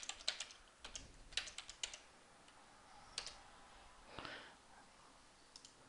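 Quiet, irregular keyboard typing on a computer running Windows 8, with scattered key clicks and short bursts spaced apart and no voices.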